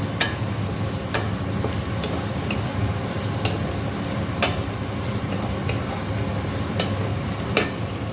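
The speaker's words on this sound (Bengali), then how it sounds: "এখানে দেখো আমি উচ্ছে আলু পেঁয়াজের তরকারি করছি" A bitter gourd, potato and onion curry frying in a pan, a continuous close sizzle with repeated scraping clicks of a spatula stirring at an irregular pace, steady and fairly loud with no talking.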